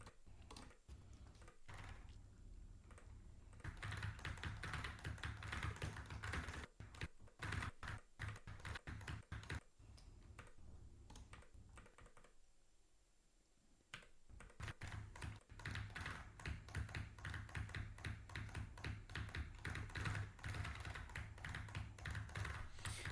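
A new computer keyboard is tapped and typed on rapidly in dense bursts of clicks that stop briefly midway and then resume, close and steady with no voices.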